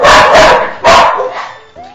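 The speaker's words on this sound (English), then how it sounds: "Sorry about the dog barking." A dog barks loudly and close by, three sharp barks in quick succession, then a fainter whimpering yip at the end.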